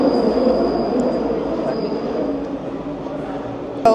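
A Paris metro train rolls along with a steady rumbling roar and a thin high whine, ending in a sharp metallic clank.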